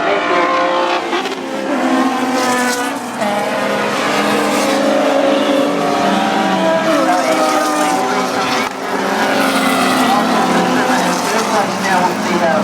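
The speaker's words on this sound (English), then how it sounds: "Look at the power of this twin cam Escort just all over the back of the Capri" Classic race cars at Manfield, among them a twin cam Ford Escort, a Capri and a V8 Ford Mustang, roar past with loud, continuous, layered engine note and shifting pitches, close and heavy throughout, with a commentator talking over them.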